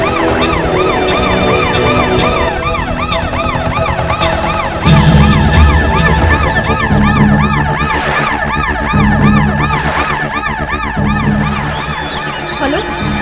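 A loud ambulance siren wails continuously, its rising and falling tone cycling steadily throughout and staying close and dominant over a low background rumble.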